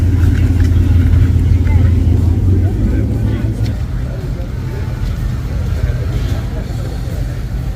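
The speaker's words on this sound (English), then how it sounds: "We got another GT350 coming in." A GT350 rolls into a car meet with a deep, throaty engine rumble that is strongest at first and then settles into a steady idle, while voices talk nearby.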